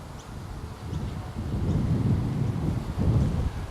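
Steady wind gusts at an outdoor archery range, a low rumbling roar against the microphone that swells and ebbs for a few seconds with no voices.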